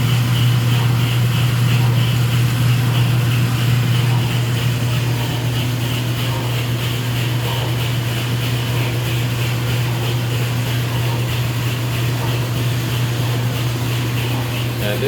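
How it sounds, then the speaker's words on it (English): Speed Queen commercial washer in its final spin cycle, a loud, steady machine drone with a strong low hum and broadband whir holding constant throughout, the drum shaking as it spins. "And this is the final spin cycle."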